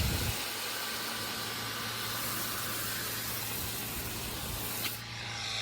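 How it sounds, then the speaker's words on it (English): A pressure washer sprays rinse water in a loud, continuous hiss with a steady low motor hum underneath, cutting off abruptly near the end. "I'm probably gonna fire the pressure washer up for my rinse"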